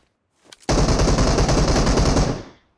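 Automatic gunfire in the mobile game PUBG Mobile: a couple of faint shots, then a loud, close, sustained burst of rapid fire lasting nearly two seconds before cutting off.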